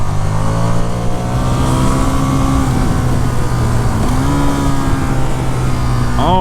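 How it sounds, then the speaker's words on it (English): A 2019 KTM 1290 Super Duke R motorcycle engine revving high and loud, a steady droning roar with shifting pitch, running continuously close by. "when you are up in the revs, this thing is shaking all over the place"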